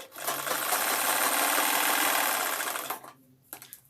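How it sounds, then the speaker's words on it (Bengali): Close, steady whir of a sewing machine stitching a straight seam on a patiala salwar, running continuously for about three seconds before stopping, followed by faint handling noises, with no talk. "এইখানে আমি একবার সেলাইটা করে নিচ্ছি এরকম সোজাভাবে"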